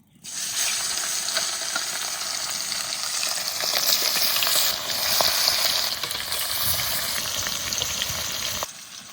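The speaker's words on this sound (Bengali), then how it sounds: "তেল ভালো করে গরম করে নিয়েছি, এবার মাছ দিয়ে দেবো" Rohu fish frying in hot mustard oil in a wok gives a steady, loud, dense sizzle that runs unbroken for several seconds and then cuts off, with no voices.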